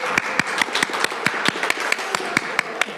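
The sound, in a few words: round of applause for Lynn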